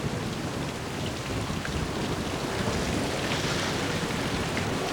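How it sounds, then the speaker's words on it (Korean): Heavy typhoon rain and wind lash a coastal forest of Japanese litsea trees on Seosudo island, a dense, steady roar of pouring rain with no letup and no voices. "거센 비바람이 까마귀 쪽나무 숲을 후려친다."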